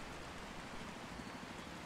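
Rain falling in the video game Until Then, a dense, even wash of patter that continues without a break through the whole short stretch.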